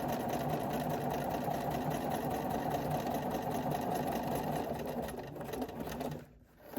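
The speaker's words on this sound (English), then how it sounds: "Pull the pin out, keep sewing, lift up my needle" A sewing machine stitches a four-patch quilt block with a steady, close, rapid mechanical whir and needle chatter that runs continuously before slowing and stopping near the end.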